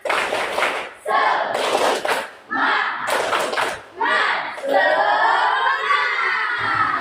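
A classroom of children performs the 'tepuk semangat' clapping chant, bursts of group clapping and shouted chanting in quick rhythmic sets separated by brief pauses, loud and close, with a teacher's voice in the room.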